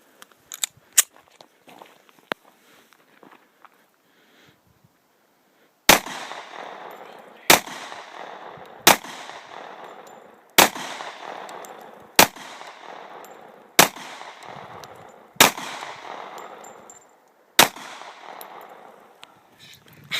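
A Springfield Armory XD-45 pistol fires nine sharp, loud shots at an outdoor range, spaced roughly one to two seconds apart, each with a ringing decay, after some quieter handling clicks.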